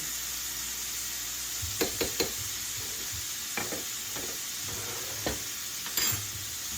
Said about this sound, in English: Just mix that in there real quick.